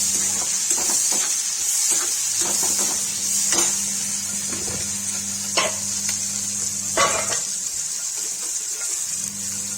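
Sliced onions sizzle in hot oil in a pan for an eggplant curry, a steady close hiss broken by repeated scraping stirs at irregular intervals, with no voices.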